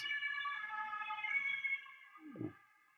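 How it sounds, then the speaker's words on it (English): A police car siren wails steadily at a distance outside, holding a sustained tone before fading, with a brief low thump near the end. "Sorry, but there will be some police cars."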